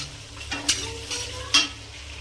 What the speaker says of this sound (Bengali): দিয়ে দেবো গোটা গরম মশলা, দিয়ে দেবো তেজপাতা। ভালো করে ভাজবো এবং সেটা হাই হিটে ভাজবো।